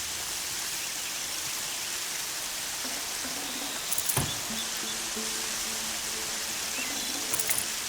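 Steady rain falls in the video game Horizon Zero Dawn, a dense even hiss of drops throughout, with a few brief faint tones and clicks partway through.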